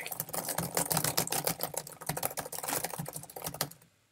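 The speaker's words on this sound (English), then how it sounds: "It's not hacking, it's typing." Rapid, heavy keyboard typing clatters close and loud in dense bursts of keystrokes, stopping abruptly at the end.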